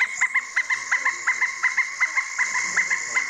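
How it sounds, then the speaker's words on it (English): A pileated woodpecker gives a recorded call, a rapid series of about fifteen loud, evenly spaced, ringing notes in a laughing rhythm that carries steadily for more than three seconds. "here's the sound of a pileated woodpecker"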